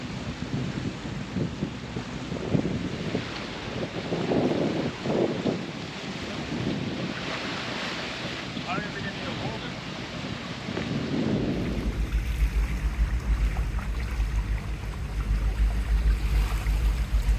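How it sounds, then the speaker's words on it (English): Sailboat running downwind under spinnaker, with a steady roar of wind and rushing water. Broadband gusting noise buffets the microphone throughout, and a deeper rumble of waves builds toward the end; no one speaks. "we're just cruising along on the spinnaker as comfortable as can be."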